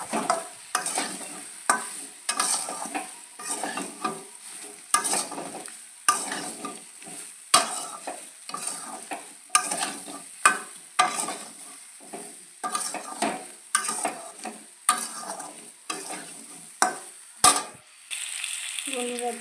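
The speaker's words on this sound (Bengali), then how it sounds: "এভাবে নেড়ে চেড়ে সুন্দর করে আমি মিশিয়ে নেবো এটা।" Mango pieces for a sour-spicy pickle fry in a pan, quiet sizzling under rhythmic scraping strokes of a spatula stirring them, repeated every second or so and fairly close.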